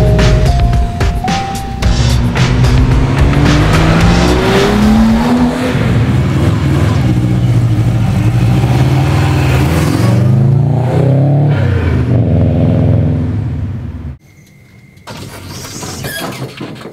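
A car engine running and revving hard on a test run after being fitted into a new shell. It roars loudly with rising and falling pitch through repeated revs, then drops off sharply near the end before picking up briefly again.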